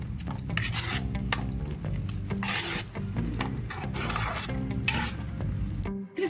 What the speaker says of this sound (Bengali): ভালো করে আমি এবারে মিক্সড করে নিচ্ছি